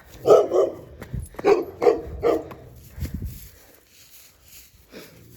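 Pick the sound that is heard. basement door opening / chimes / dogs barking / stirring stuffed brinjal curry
dogs barking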